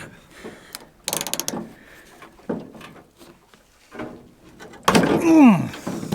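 A manual socket wrench ratchets a stubborn bolt loose on a junkyard vehicle, giving close, intermittent bursts of mechanical clicking with pauses between strokes and a sharp squeaky scrape near the end.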